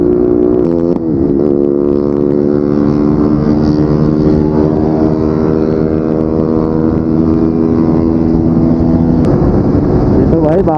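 A Yamaha R15 V3 motorcycle hums at a steady engine drone with strong wind rush throughout, loud and close on a Sunday group ride, with a brief shift in revs near the start.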